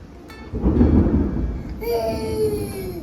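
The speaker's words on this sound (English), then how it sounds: "You heard the thunder?" Deep rumbling thunder rolls in over steady rain, swelling loud before easing into a long, low grumble.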